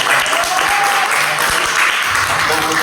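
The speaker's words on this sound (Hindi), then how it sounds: "तालियों की" Steady crowd applause fills the clip at a constant loud level during a live broadcast near a spacecraft's fine braking phase, with faint voices and scattered claps mixed in.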